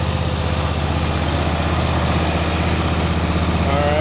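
Just after starting, the engine of a 2026 John Deere Z545R riding mower idles loud and close, a steady, evenly pulsing rumble with no break.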